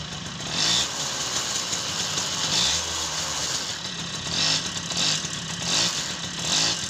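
A TVS XL Heavy Duty moped with a clutch fault runs with a buzzing, rising and falling engine note, revving in several surges close by.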